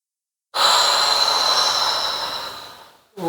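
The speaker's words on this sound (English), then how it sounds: "Take a breath in." A single long, steady inhale during a mat Pilates session, close and fairly loud, fading gradually over about two and a half seconds before a short second breath begins.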